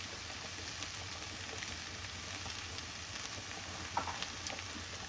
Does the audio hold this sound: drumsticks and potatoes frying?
yes